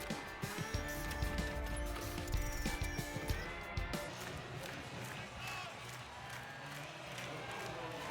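A large football crowd in the Iowa State Cyclones stadium on a hot day, during the Iowa Hawkeyes game, gives a steady, dense roar with scattered cheers, while a commentator talks over it.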